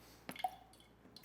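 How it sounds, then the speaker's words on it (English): Pistachio syrup squirts from a pump bottle into about eight ounces of cold milk, a brief wet splash followed by a couple of soft, close drips and squishes in a quiet kitchen. "3 pumps, teaspoon or so, of the pistachio syrup."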